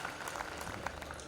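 A brief, faint patter of audience applause at a Hindi poetry gathering, a steady spread of hand claps from a crowd.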